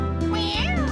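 A single drawn-out meow, close and clear, with a rising then falling pitch; it sounds like a person imitating a cat rather than a real one, in a Postman Pat children's cartoon.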